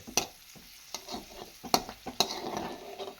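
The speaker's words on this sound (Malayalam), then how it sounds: "മുന്തിരി ഇട്ട് മുന്തിരി ചെറുതായിട്ടൊന്ന് വറുത്തെടുക്കുകയാണ്" Raisins crackle softly in hot ghee, with a quiet sizzle and occasional clicks of a spoon stirring the pan.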